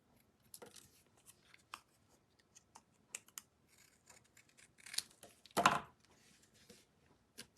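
Scissors snip a small piece of paper grass for a handmade card, giving quiet, close, irregular snips that end in one longer, louder cut, with no talk.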